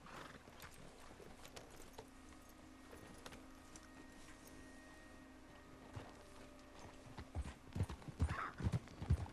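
A horse's hooves clip-clop at a steady walking rhythm in Red Dead Redemption 2. A short whinny and louder hoof strikes come near the end, over a quiet outdoor ambience with no talking.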